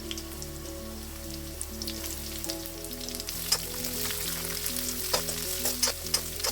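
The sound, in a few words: sliced onions frying in oil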